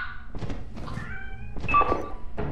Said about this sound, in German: Ich höre hier irgendwo eine Katze.